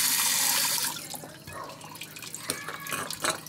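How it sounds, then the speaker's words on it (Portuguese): A kitchen sink tap runs strongly for about a second while utensils are washed during acerola mousse making, then is shut off, leaving scattered drips and light clatter. "E olha só, fecha essa torneira aqui, Léo, para mim."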